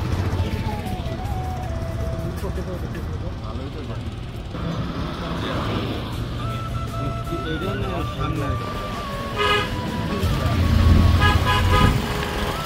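Jammed road traffic on the way from Cox's Bazar to Inani beach, with idling engines, passing vehicles and a few car horns sounding amid continuous road noise and nearby voices talking.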